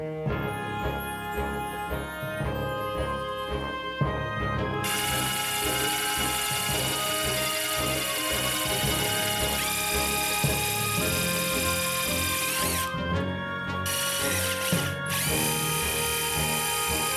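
A power drill bores screw holes in a workshop for a DIY build, its motor whining steadily and loudly throughout with shifting pitch as the bit bites and releases.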